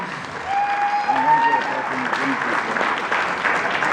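Audience applauding a band after their song, a steady wash of clapping with a voice talking over it near the start.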